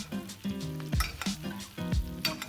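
Steak sizzling and frying in a pan as it is basted with butter and garlic, steady crackling sizzle broken by repeated spoon scrapes and clinks against the pan.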